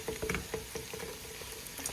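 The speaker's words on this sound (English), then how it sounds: "Make sure your chicharrones go in the bottom so they can fry a little bit more." Chicharrones crackling as they fry in hot grease in a pan, a steady close sizzle with scattered small pops, no voices.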